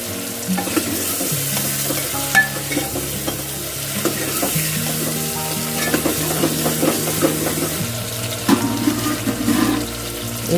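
Punjabi-style pumpkin sabzi sizzling in a pan, with steady frying hiss and stirring scrapes over a background tone, loud and close, with no talk.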